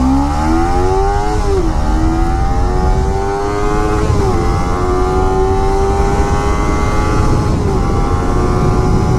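Kawasaki Ninja 300 motorcycle engine accelerating while riding, a loud close drone rising in pitch through several gear changes, each shift marked by a brief dip before climbing again, with steady wind rush underneath.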